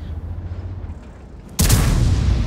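A single loud tank cannon impact in World of Tanks, striking an ST-1 tank, bursting suddenly after a quiet low rumble and ringing out with a sustained decaying roar.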